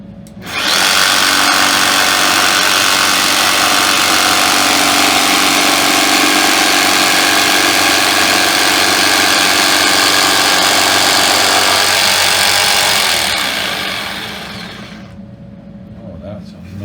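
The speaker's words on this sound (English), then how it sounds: "I'm trying a new kind of jigsaw blade" A jigsaw fitted with a new type of blade cuts through a wooden workpiece for a folding wine table. It makes a loud, continuous buzzing rasp that holds steady for about thirteen seconds before winding down and stopping.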